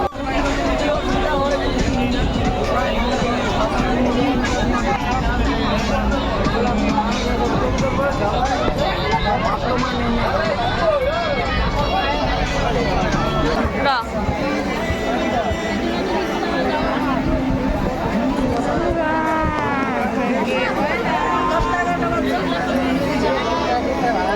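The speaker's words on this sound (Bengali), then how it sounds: "তোমাদেরকে নিচের ভিড়টা দেখাই আমি" A busy railway station platform in Jalpaiguri hums with a dense crowd babble of many overlapping voices, loud and continuous, with nearby talking and shouting over the din.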